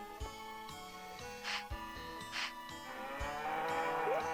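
A cartoonish cow moos a few times in the farming video game Harvest Moon 64, short low calls repeating amid light game music with soft jingling tones.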